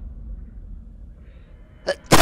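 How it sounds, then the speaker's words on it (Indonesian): A person sneezes loudly and close up at the very end, after a quick sharp intake of breath, over a low steady background hum during a gaming livestream. "Aduh, pengen bersin."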